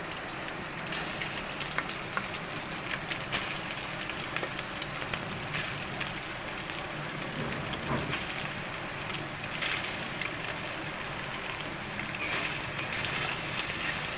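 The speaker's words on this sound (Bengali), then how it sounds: "তেলটা গরম হয়ে যাওয়ার পরে আমি সয়াবিনগুলোকে এক এক করে দিয়ে দেব" Soybean chunks frying in hot oil in a wok, a steady close-up sizzle with bursts of crackle that holds constant for the whole stretch, with no talking.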